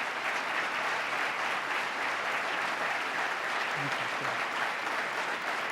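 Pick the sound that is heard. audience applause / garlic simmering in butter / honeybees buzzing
audience applause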